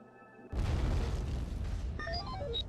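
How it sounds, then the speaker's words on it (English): A nuclear missile strike in the space strategy game Fragile Allegiance lands as a sudden loud boom, then a long rumbling roar, with a descending series of electronic alert tones chiming near the end. "Boom, that was a nuclear missile"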